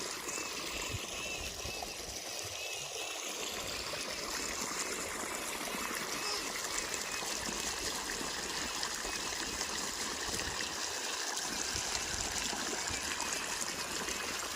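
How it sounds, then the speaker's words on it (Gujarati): Irrigation water runs through a farm field in a steady, continuous trickling and gushing stream, close and moderately loud, with faint voices now and then in the background. "પાણી વાળવાનું કામ ચાલુ થઈ ગયું છે"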